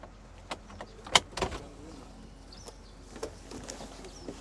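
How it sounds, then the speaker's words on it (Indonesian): Manual opening of the soft top on a Mazda Miata convertible: scattered clicks, latch snaps and fabric rustles, with a sharp louder clack near the middle and lighter knocks after, against quiet outdoor background. "Yes, udah sesimpel itu untuk membuka atap dari mobil ini."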